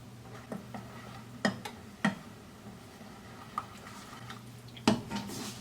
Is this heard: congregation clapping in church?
no